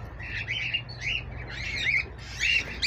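A cockatiel in an aviary with nest boxes gives repeated bright, piercing chirping calls in short bursts over a steady low background hum, fairly close and loud.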